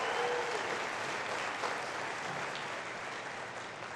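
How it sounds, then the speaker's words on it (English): At Millersville University's spring graduate commencement, marking its first doctoral degrees, a large audience applauds in a dense, even wash of clapping that fades gradually over a few seconds. "That deserves a round of applause."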